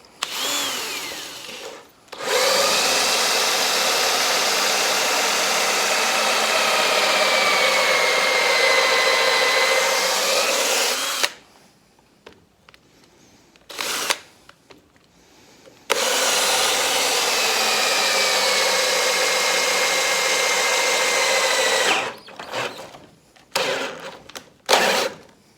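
A saw cuts through a wet ash log in two long, steady runs of roughly nine and six seconds, loud and close, with short quiet gaps and some handling knocks between the cuts.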